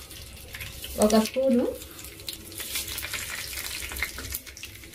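Mustard seeds hit about 50 grams of hot oil for a water-based lemon pickle, giving a sharp burst of frying sizzle and crackle, with a voice speaking briefly over it.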